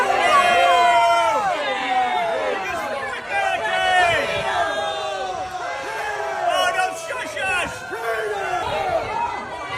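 A crowd at a Republican town hall boos a politician, with many overlapping voices making loud, drawn-out falling jeers and shouts that swell and ebb.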